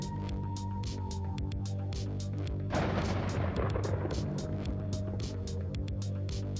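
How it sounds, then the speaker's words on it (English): Video game gunfire: a steady run of sharp, evenly spaced shots rings out at moderate loudness over a low droning hum, with a denser burst of noise swelling midway. "Let's stumble upon some gunfire."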